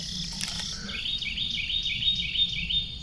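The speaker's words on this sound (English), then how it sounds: "I've just been enjoying listening to the birds here this morning" Small birds chirp and sing at a campsite in the morning, a steady run of high repeated calls, fairly distant and soft, over a low constant outdoor background hum.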